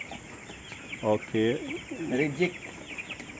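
Chickens on a farm where sick and rejected birds are kept apart, their clucks and short calls sounding close under a steady hum, with a person speaking briefly in the middle.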